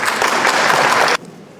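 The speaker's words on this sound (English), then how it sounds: "we owe them a round of applause right now" A crowd applauds steadily and loudly for about a second, then stops abruptly, leaving a quiet room tone.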